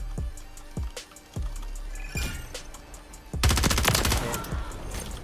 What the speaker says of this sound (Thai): เขาเล่นปืนกลด้วยนะ